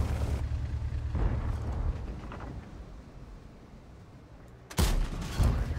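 A tank cannon fires in World of Tanks, one sudden loud blast near the end after a stretch of low engine rumble, followed by a rolling tail.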